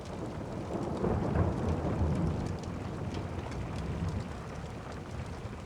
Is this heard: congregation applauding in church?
no